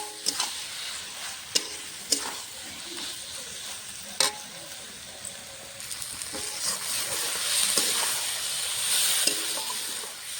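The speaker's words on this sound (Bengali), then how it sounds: "টমেটো মশলার সঙ্গে একসঙ্গে সব কষানো হয়ে যাবে।" Vegetables sautéing with tomato and chili paste for a rohu fish curry with potato and flat beans, a soft continuous sizzle with sharp stirring clacks and scrapes, the hiss rising toward the end.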